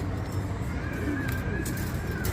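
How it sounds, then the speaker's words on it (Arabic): White King pigeons cooing in a loft, soft low repeated coos under a steady background hum, with occasional faint clicks and no talk. "حمام الكينج الابيض"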